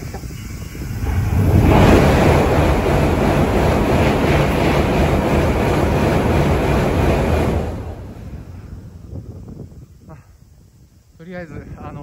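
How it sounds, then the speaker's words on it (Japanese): A Tokaido Shinkansen bullet train thunders across the Sagami River bridge overhead in Hiraizumi area, a loud broadband roar building quickly, holding steady for several seconds, then fading away, with faint wind and ambient noise afterward. "通り過ぎてからだいたい7、8分経ってるので、おそらく次の新幹線もうすぐ"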